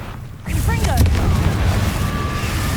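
Confringo fireball spell cast in the Hogwarts Legacy video game: a sudden whooshing burst with a booming low rumble that rolls on for a couple of seconds, with swirling magical tones over it.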